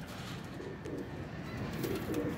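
Teddy pigeons coo softly at close range, with low repeated rolling calls over a steady background hum.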